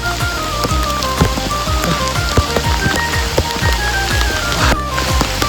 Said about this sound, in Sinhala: වැස්ස පටන් ගත්තා මේ අපි ජැකට් දාගත්තා.